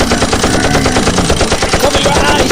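Rapid gunfire rattles in a dense, loud burst, sustained machine-gun style shots crowding the whole moment with a voice faintly mixed underneath.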